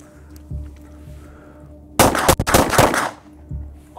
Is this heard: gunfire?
yes